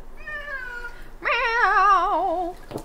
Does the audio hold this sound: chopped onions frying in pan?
no